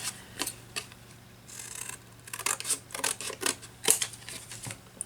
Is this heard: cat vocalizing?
no